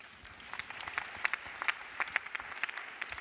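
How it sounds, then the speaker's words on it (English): Applause from a summit audience at The One Young World Summit 2013, fairly faint and distant scattered clapping with sharper individual claps standing out. "A huge round of applause"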